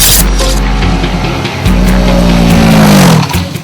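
TVS Apache RTR200 motorcycle with a 198cc four-stroke oil-cooled engine, revved loudly up close, rising pitch climbing through the throttle blip before dropping back, without talk.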